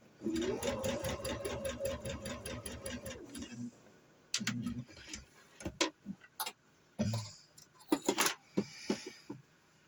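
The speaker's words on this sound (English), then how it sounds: "I'm going to do my little top stitch on the outside, just so everything lays where I want it." Sewing machine top-stitching the placket of a purchased T-shirt, a fast steady stitching run for about three seconds, followed by sparse clicks and handling knocks with quiet gaps.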